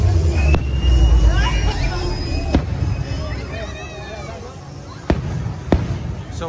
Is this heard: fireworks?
yes